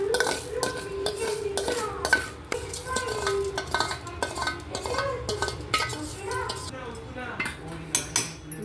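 Roasted, cooled spices for a spicy lemon pickle powder being stirred together in a bowl, with steady scraping and clinking of a spoon against the dish, busy and close throughout with no talking.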